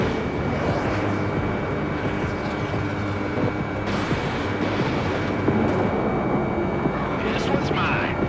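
A fighter jet's engine roars loudly and steadily in Ace Combat 7 during a mission through icing clouds, a continuous dense rush with voices talking over it.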